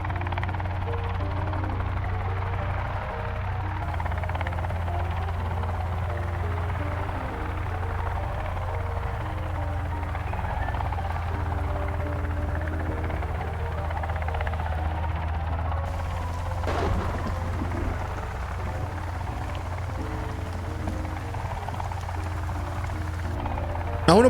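A helicopter in the Sons of the Forest video game flies with a steady, continuous low rotor drone and engine hum throughout, holding a constant loudness, with a brief sharp click or clunk near the end.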